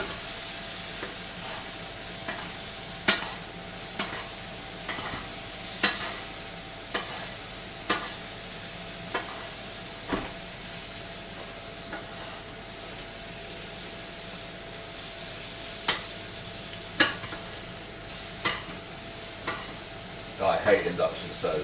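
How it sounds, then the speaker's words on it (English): Spoon flicking and basting butter over food in a frying pan on an induction stove, with a steady soft sizzle under repeated sharp metallic clicks and scrapes spaced a few seconds apart, busier clattering at the end. "Grab a spoon and you want to flick and nappe the butter over."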